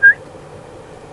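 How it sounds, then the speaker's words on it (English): A single short, sharp whistle is blown as a feeding signal during otter training. It is loud and close at the start, then fades into quiet background. "You can also obviously couple that with the whistle."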